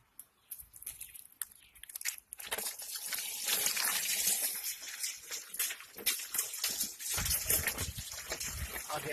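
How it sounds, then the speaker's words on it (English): Water is poured from plastic bottles into a container holding a rusty, oxidized iron Sericho pallasite meteorite, making a continuous close splashing gush with brief pauses and bottle crackles. "So, I'm going to start pouring it in now."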